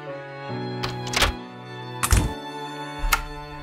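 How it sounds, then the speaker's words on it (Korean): Door opening in a Korean RPG Maker horror game: three dull thunking knocks or bumps, spaced about a second apart, over a steady tonal background music drone. "문이 열리는 소리?"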